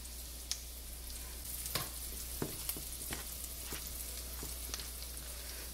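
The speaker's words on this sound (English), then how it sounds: "let me get these grits stirred up" Grits stirred in a pot for Cajun shrimp and grits, with shredded cheddar cheese mixed in: quiet, soft scraping with scattered small taps and clicks against the pot, no talking.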